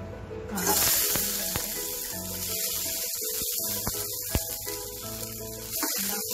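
Mustard seeds and chana dal fry in hot oil for a South Indian potato masala, a steady close sizzle with sharp popping crackles scattered throughout, clearly louder after a brief quiet opening.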